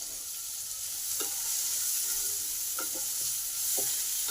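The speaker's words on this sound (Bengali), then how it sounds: "একটু ভালো করে ভেজে নেব।" Chopped onion sizzles in hot oil with garlic already browned in the pan, a soft, steady frying hiss with a few faint stirring clicks and scrapes, no voices.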